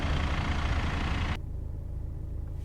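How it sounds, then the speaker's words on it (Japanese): An Audi A4 sedan's diesel engine idles outside, with the mechanical noise from the engine bay standing out more than the exhaust; a steady low rumble that drops sharply to a quieter hum partway through. "外でエンジンかけた状態、アイドリングの状態で外から音を聞いてもですね、 マフラーから出る排気音っていうよりかはもうエンジンルームから聞こえるエンジンのメカノイズ"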